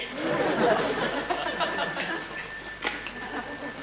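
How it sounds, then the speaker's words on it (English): An office telephone rings on and on, a steady electronic tone sitting faintly beneath room noise and murmured background chatter in a comedy sketch. "That blinking phone has never stopped ringing all morning."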